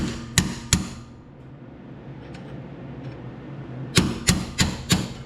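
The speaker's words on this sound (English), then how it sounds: "my little mini hammer is pretty awesome here" A small hammer strikes a punch driving out the brake lever pin on a John Deere E100 series mower: two sharp metallic taps, a pause, then four more evenly spaced hits, close and crisp over a quiet background.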